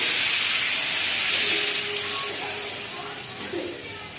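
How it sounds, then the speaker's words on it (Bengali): Water poured into a pan of frying vegetables for a fish curry sets off a loud, continuous broad hiss and sizzle that slowly fades over a few seconds. "সবজিটা ভাজা ভাজা হয়ে গেছে, এবার ঝোলের জন্য জল দিয়ে দেব।"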